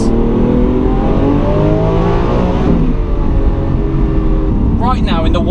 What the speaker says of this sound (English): The downshifts are beautiful.